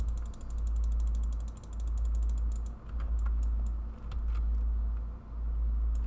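Sharp, rapid mechanical clicks in quick bursts over a steady low hum, like a clicky computer mouse being pressed repeatedly.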